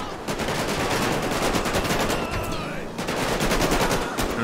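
Rapid automatic gunfire in Grand Theft Auto V, loud dense bursts of shots rattling continuously for several seconds, close and sustained with a brief lull partway through.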